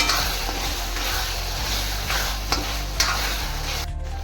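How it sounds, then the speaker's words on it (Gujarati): Mexican rice with Schezwan sauce is stirred in a hot pan, a continuous sizzle with scraping spoon strokes and a few sharper clacks against the pan near the end. "હવે હું હલાવી દઈશ."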